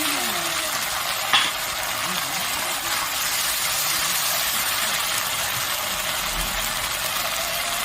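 A paste of cumin, green chilli and ginger frying in a pan, giving a continuous dense hiss that stays steady and fairly loud throughout, with one brief knock near the start.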